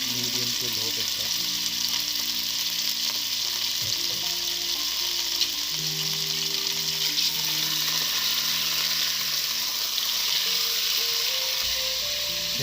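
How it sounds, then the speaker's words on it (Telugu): Chicken pieces frying in oil in a pan on a stove over medium-low heat until golden brown, with a steady, continuous sizzle throughout, some occasional stirring and faint background noise. "వీటిని గోల్డెన్ బ్రౌన్ వచ్చే వరకు ఇలాగ వేయిస్తాం."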